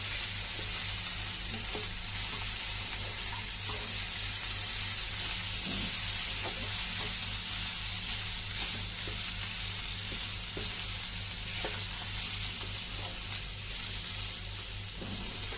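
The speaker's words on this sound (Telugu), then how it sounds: "ఇప్పుడు మనం బంగాళదుంప వేసేద్దాం బంగాళదుంప వేసి ఇలా బాగా కలపండి" Potatoes are stirred and fried in oil in a pan for a Telugu-style potato curry, giving a steady, loud sizzle throughout with occasional soft scraping from stirring and no voices.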